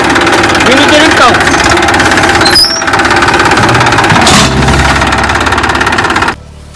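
A tractor loaded with manure runs loudly and close by, its engine chugging with a steady rhythmic knock for several seconds before the sound cuts off abruptly near the end.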